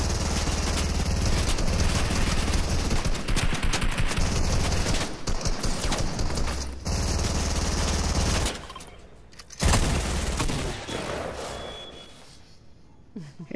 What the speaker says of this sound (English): That's him shooting at you right now.